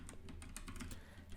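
Quick keystrokes on a computer keyboard while writing Python code, a short burst of soft clicks tapping in an uneven rhythm at close range.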